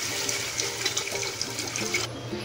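Water poured from a vessel into a pot of fried spices while making Zam Zam pulao, a steady close splashing and gushing stream lasting a couple of seconds.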